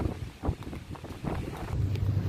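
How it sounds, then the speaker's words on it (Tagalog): Strong wind buffets the microphone outdoors near water, a rumbling, gusty roar that rises and falls with no clear voices. "Mahangin kasi, sobrang hangin."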